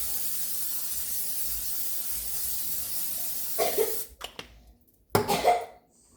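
Cooking spray hisses onto a pan between pancakes at breakfast, two short bursts around the middle and end against a quiet kitchen background.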